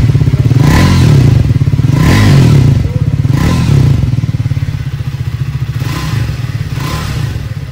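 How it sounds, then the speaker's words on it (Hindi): A Triumph Speed 400 motorcycle engine runs loud and close, revving up in a few surges from idle before settling into a steady, throbbing rumble. "अभी थोड़ा सा रेस देता हूं"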